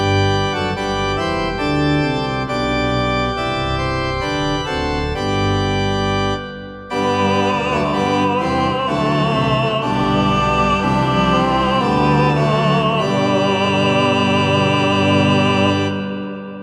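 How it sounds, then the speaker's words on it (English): A Hammond SKX Pro playing classical organ voices, with sustained full chords and moving melodic lines, a brief break around the middle, then a brighter registration swelling on, steady and loud throughout. "There are still really good classical organ voices as well"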